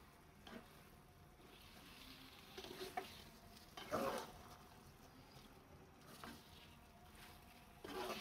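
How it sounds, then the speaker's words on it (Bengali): Beef tripe sautés in a pan, a faint soft sizzle broken by intermittent scraping stirs at a moderate distance. "কষানো হচ্ছে"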